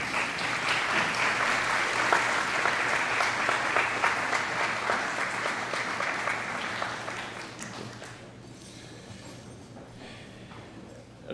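A graduating class and audience at a CASD commencement ceremony applaud loudly in a dense, steady patter of clapping that holds for several seconds, then tapers off and fades to scattered claps.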